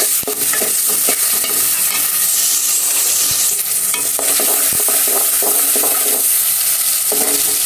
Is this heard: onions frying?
yes